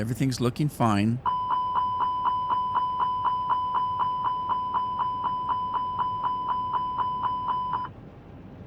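In Microsoft Flight Simulator 2020, an overspeed warning sounds after the flaps are lowered: a rapid, even series of loud electronic beeps that repeats for about seven seconds and then stops. Someone speaks briefly just before it starts.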